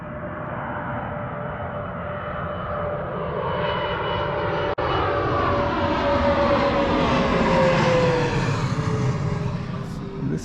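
An airplane on its landing approach in Denver passes low overhead, a loud, steady engine roar whose pitch slowly drifts as it goes by. It is heard alone, without talking, for about ten seconds.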